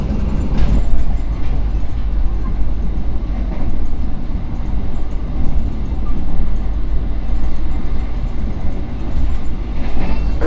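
Gumarang passenger train running on the rails near Bojonegoro, a loud, steady low rumble of the moving carriages that goes on without a break and without clear clacks or voices.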